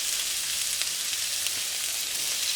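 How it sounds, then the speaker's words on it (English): Pork seasoned with salt, pepper and jerk seasoning fries in a hot pan, giving a loud, dense, continuous sizzle that holds steady from start to finish with no voices. "I'm going to put the pork that I seasoned with salt and pepper and jerk seasoning. I'm going to put that in."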